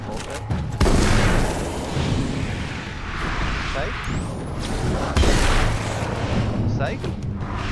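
A flashbang blast in Alan Wake's American Nightmare, a loud booming burst with a second strong hit a few seconds later, over dense game noise and rumble, with a voice talking underneath.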